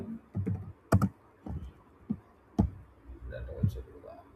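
Keys tapped on a computer keyboard while a name is typed into a search, heard as scattered close clicks and short bursts of keystrokes, alone with no talk.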